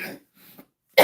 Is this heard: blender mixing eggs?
no